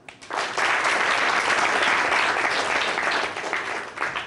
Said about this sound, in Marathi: यासाठी तर टाळ्या वाजवा.